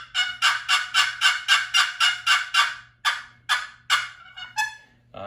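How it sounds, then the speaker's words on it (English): A handmade turkey box call with a walnut body and ebony lid yelps out a rapid run of about ten loud, raspy gobble-like notes, then a few slower, spaced clucks and yelps, close and alone. "Good little box call."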